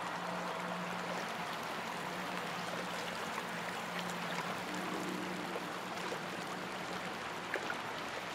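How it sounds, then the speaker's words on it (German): Rushing river current in the horror game Outlast 2, a dense, steady roar of churning water filling the whole span at constant loudness, close and unbroken. "Jetzt kommt der reißende Fluss."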